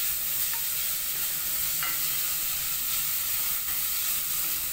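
Onion stirred and fried in a pan until soft and lightly browned, a steady hissing sizzle with a few faint spatula scrapes, close and even throughout.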